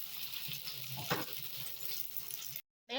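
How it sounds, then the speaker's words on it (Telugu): Onions frying in a pan for a Saudi-style egg dish: a soft, steady sizzle with light stirring scrapes, fairly quiet, ending in a brief drop to silence. "ఆనియన్స్ ఇలాగ వేగితే చాలు, ఇంతకన్నా ఎక్కువ వేగకూడదు"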